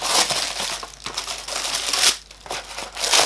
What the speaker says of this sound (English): So tear open the paper